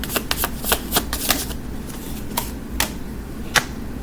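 Tarot and oracle cards shuffled by hand, including a Metaphysical Cannabis Oracle deck and Moonology Manifestation cards, giving a run of crisp riffling snaps, dense at first and then spaced into a few sharp flicks, alone with no talking.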